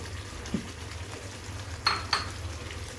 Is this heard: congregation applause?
no